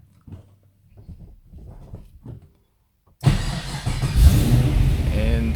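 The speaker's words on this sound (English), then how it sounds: "And start her up." A GM LS3 V8 swapped into a Subaru BRZ fires up with a sudden loud crank and catch, then settles into a deep, rumbling idle close by, after a stretch of soft clicks and faint sounds from the cabin.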